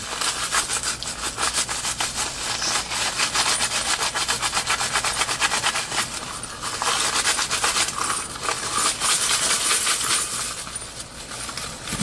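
An iPhone 5C is rubbed hard against a rough surface, producing a continuous, close gritty scraping with rapid back-and-forth strokes and brief pauses.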